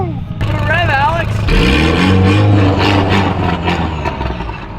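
Subaru car engine revving up and holding a loud throaty drone outdoors, with people talking and cheering over it.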